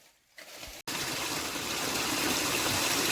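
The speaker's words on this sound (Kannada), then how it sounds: "ಈಗ ಇಲ್ಲಿ ಓಪನಿಂಗ್ ಕೊಟ್ಟಲ್ಲಿ ನೀರು ಬರ್ತದೆ" After the pump switches on, water suddenly gushes out of a silica sand filter's opening, a loud, steady rushing flow that starts with a click and continues close by.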